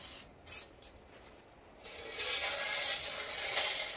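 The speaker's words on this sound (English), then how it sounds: "just give it a final wipe down." A cloth gives a Vauxhall Opel Insignia brake disc a final wipe down, a few soft rubbing strokes at first, then a steadier, louder scrubbing rasp close by.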